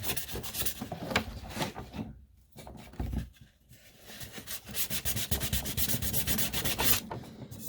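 Close, continuous sanding on a 1966 GMC headlight bezel, with steady rasping back-and-forth strokes that dip briefly in the middle before resuming at full pace.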